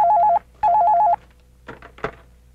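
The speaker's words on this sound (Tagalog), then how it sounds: "Jessica, telepono." A telephone rings loudly in two warbling electronic bursts, then stops, followed by brief low voices talking in an indoor domestic scene.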